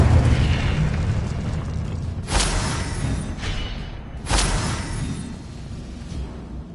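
Incendio fire spell blasts in the video game Hogwarts Legacy: two loud, sharp bursts a couple of seconds apart, each flaring up over a steady low rumbling background and fading quickly.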